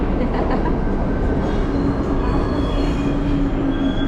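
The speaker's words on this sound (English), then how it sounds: "There's our train." A New York City subway train pulls into the station with a loud, steady rumble, metallic wheel squeal and faint high whine building over about four seconds, with no talk.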